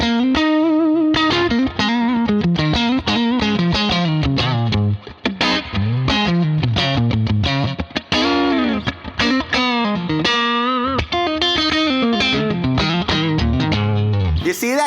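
An electric guitar played through a wide-open Bad Cat Classic Deluxe amp rings out loud and distorted, with strummed chords and bending single-note phrases sustaining continuously with no talking.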